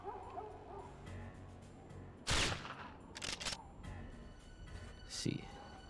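Sniper rifle fire in the video game 007 Nightfire: one loud, sharp crack, then a few shorter bursts, heard over constant in-game background noise.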